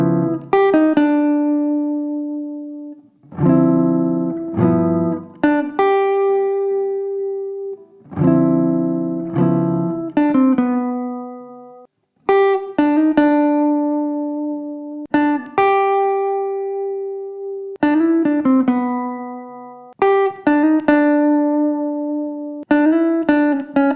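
Jazz guitar playing a 2-5-1 chord progression, resolving from the five chord to the one chord and landing on a specific chord tone, with clean sustained chords and phrases repeating in steady cycles, close and alone.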